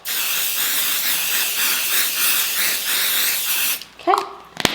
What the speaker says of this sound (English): I'm gonna use my basting spray here, and I'm gonna spray the front of my batting